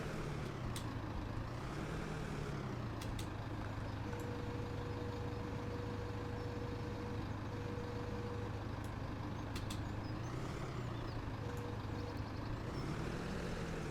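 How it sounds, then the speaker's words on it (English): A tractor engine in Farming Simulator 17 drones continuously, with the pitch rising and falling as the machine works, plus occasional hissing bursts and a faint tonal whine, steady and close with no speech. "There you go, little tractor."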